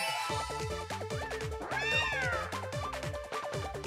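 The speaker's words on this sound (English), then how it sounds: "Oh, kitty." A cartoonish cat meows from the video game Miitopia, a rising, bending cry near the middle of the clip over steady, bouncy game music that plays throughout.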